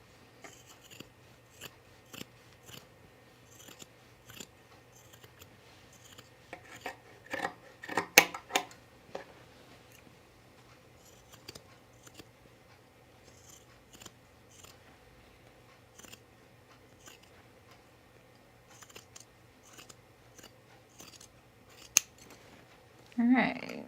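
Scissors snipping dress fabric for a sewing project, with scattered sharp cuts that cluster in a busier burst midway and a louder handling noise at the end, in a quiet room.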